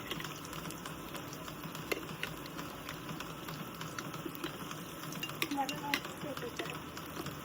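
Eggs crisping in a pan give a quiet, crackling sizzle scattered with small pops and clicks, fairly faint and close.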